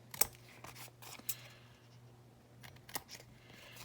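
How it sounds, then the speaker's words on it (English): A few quiet, crisp snips of scissors cutting paper corners occur in a still room, spaced apart with soft handling rustle between them. "snip the corners."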